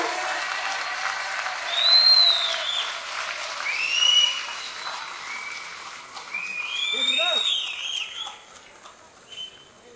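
A crowd claps at the Raj Cup Season 6 cricket jersey launch, with sharp whistles cutting through. The applause swells in several waves and stays fairly loud throughout.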